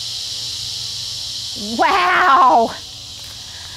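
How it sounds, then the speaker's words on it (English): Cicadas buzz in a steady, high, droning hum throughout a hot garden scene, with a brief exclaiming voice rising over it midway. "boy, can you hear those cicadas?"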